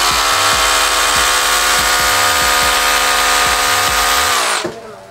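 A cordless drill whirs at a steady high pitch, loud and close, with brief pulses in the motor, then winds down and stops.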